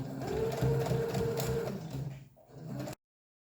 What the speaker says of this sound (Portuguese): nós vamos lá na máquina e vamos passar uma costura de pesponto em toda essa